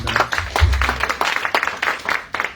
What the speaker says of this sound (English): if you can give a round of applause for the speakers that have spoken today